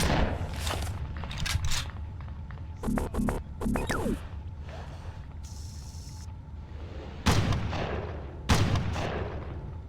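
Gunfire in the video game Red Faction: a few scattered bursts of quick shots with short echoing tails, mid-loud among faint footsteps and static.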